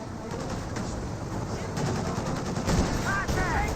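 Machine-gun bursts and rattling gunfire in a Company of Heroes 2 match, with MG-42 fire, dense and continuous at mid distance, heard under a caster's commentary along with bits of battle noise.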